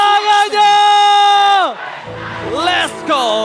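Large esports arena crowd at a Mobile Legends match roars and whoops, loud and close, with sustained yells swelling then dropping before another burst of cheering.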